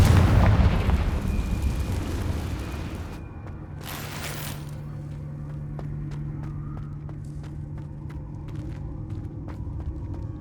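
A Confringo blasting spell detonates in Hogwarts Legacy with a loud, booming explosion that rumbles and fades, followed by a second shorter blast and scattered small crackles.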